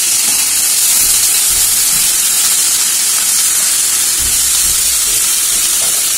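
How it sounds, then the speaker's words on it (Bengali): Small diced potatoes fry in hot oil for a potato curry, a loud, steady hiss and sizzle that carries without pause and without voices. "আলুটাকে এবার লাল লাল করে মা প্রথমে ভেজে নেবে।"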